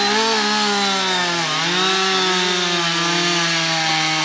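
A chainsaw cuts and trims a tall log outdoors, its engine holding a loud, steady high-revving drone with slight pitch shifts as the chain bites the wood, continuous throughout.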